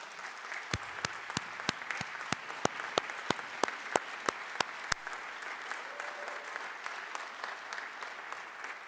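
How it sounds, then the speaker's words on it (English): Audience applause at a youth brass band festival results ceremony, steady clapping from a crowd in a hall, with a few sharp nearby claps standing out in the first half. "I think you guys should stand up and take a little clap."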